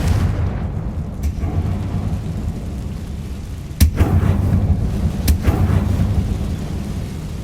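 In the Hogwarts Legacy video game, the Confringo fire spell goes off as sharp bursts over a loud, steady rumbling game background, with one strong crack near the middle and a weaker one later.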